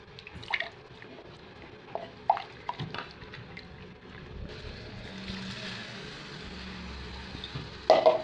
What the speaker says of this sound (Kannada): ಅದಕ್ಕೆ ಇನ್ನೊಂದು ಸ್ವಲ್ಪ ನೀರು ಹಾಕಿಬಿಡ್ತೀನಿ ರೀ